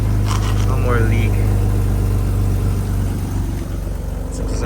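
A BMW E36 project car's engine runs steadily after starting, a loud, continuous low rumble at idle with a voice talking briefly over it.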